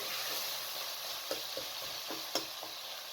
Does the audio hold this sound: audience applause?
no